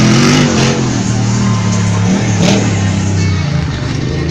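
A Jeep Wrangler with engine trouble revs loudly at a county monster truck race, a steady close engine roar with rising and falling pitch and crowd ambience behind it.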